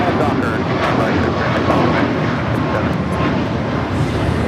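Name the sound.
Southwest Boeing 737 MAX 8 taking off at LAX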